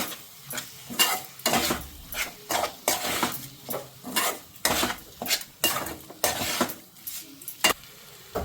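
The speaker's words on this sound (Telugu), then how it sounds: "ఇప్పుడు మనం దీన్ని చక్కగా కలుపుకుందాం. టమాటాలు, మసాలాలు మొత్తం అంతా శుభ్రంగా కలిపేసుకోండి." A spoon scrapes and clacks rhythmically through tomatoes and spices in a pan, with repeated close stirring strokes over a soft sizzle.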